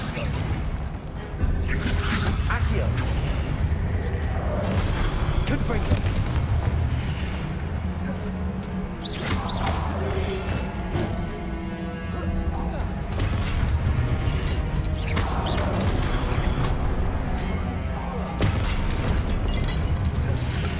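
Confringo blasting-spell explosions boom repeatedly in Hogwarts Legacy, loud and dense, layered over a continuous roar of combat noise with several sharper bursts across the stretch.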